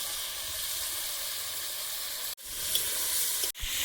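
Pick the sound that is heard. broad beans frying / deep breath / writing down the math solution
broad beans frying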